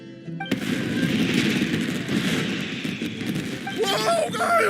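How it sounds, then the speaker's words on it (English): Fireworks going off in the video game Genshin Impact, a dense run of crackling bursts and booms that fills most of the stretch, loud and close, with game music and effects joining toward the end. "Yoimiya, this is turning into a bit of a fireworks display."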